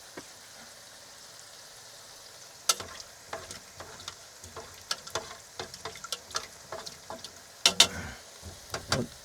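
Food sizzles in an aluminium pan during camper-van cooking on a fishing trip, a soft steady fry broken by sharp clicks and scrapes of stirring.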